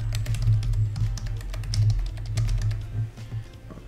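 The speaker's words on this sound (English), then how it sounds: "And I'm typing my caption." Fingers typing on a computer keyboard, a quick irregular run of light clicking keystrokes close by with a low background hum.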